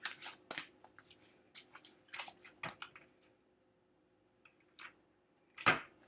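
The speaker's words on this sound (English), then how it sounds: "Let me just give it one more good shuffle." Brisk shuffling of large tarot cards, a series of crisp riffling bursts followed by a pause and one final sharp snap, close and fairly quiet.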